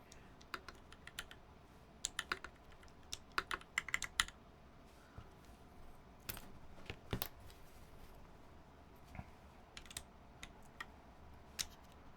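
Typing on a computer keyboard with some keycaps missing produces close, uneven bursts of sharp clicks and clacks, scattered in quick clusters over quiet room noise, with no talking.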